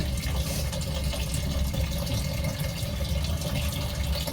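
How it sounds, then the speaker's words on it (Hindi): Drinking water pours steadily from a tap into a water jug, a loud continuous rushing and splashing fill with no pauses or talk. "पानी भर गया है पीने का, वाटर जग भी भर देती हूँ धो के।"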